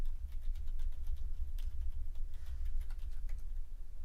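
Someone types a passphrase on a computer keyboard: a quick run of soft, close key clicks over a low, steady rumble, with no voices.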